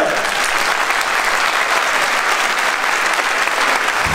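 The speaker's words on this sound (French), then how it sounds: "Je vous demande d'applaudir très très fort Patrick Sébastien." An audience at a gala show claps loudly in a dense, continuous wash of applause with no break for the whole stretch.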